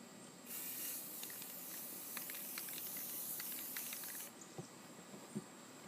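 A steady hiss of spray primer laying a fine coat on the sides of an old cooler, running for about four seconds before stopping, with a few light clicks and taps afterward.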